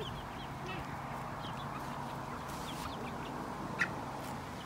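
Chickens cluck softly in the background of a yard, a continuous low chatter of fowl with one brief sharper call near the end.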